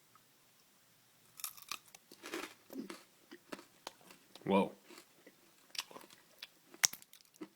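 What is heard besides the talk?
chewing crunchy nougat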